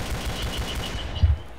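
Rapid automatic gunfire in the co-op shooter Killing Floor, a steady rattling burst of shots over about a second and a half, then a couple of heavier thuds near the end.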